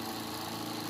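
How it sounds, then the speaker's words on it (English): A high-torque brushless DC motor runs steadily at close range, giving a continuous electric whir with a smooth hum and no breaks. "This is a special type of motor"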